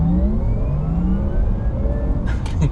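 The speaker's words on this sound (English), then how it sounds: "sounds like a real life Jetson car." A 2020 Porsche Taycan 4S electric car accelerates in Sport Plus mode, its rising synthetic whine climbing steadily in pitch over a low rumble, loud and close.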